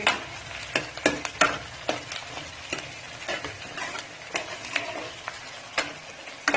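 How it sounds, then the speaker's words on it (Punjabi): Onions frying in a pan on the stove for a Punjabi-style chicken curry, a steady sizzle broken by repeated sharp scraping clicks as a spoon stirs them, close and fairly loud with no talking. "ਇਹਨੂੰ ਹਿਲਾਉਂਦੇ ਰਹੋ ਜੀ ਪਿਆਜ਼ ਆਪਣਾ ਪੱਕ ਚੁੱਕਿਆ ਜੀ"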